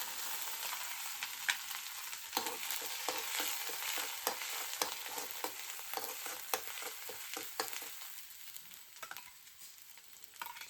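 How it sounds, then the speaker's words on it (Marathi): Ground masala paste of coconut, onion, tomato and garlic hisses as it is tempered in a pan on a wood-fired stove. The sizzle is quiet and close, with busy scraping and clinking from stirring and no speech. "फोडणी देऊन घेऊ मसाल्याला"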